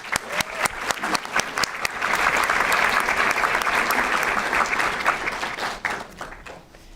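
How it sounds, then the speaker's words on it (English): An audience at a school board recognition meeting applauds, a loud sustained burst of clapping from many hands that swells and then tapers off. "We'll give them an applause."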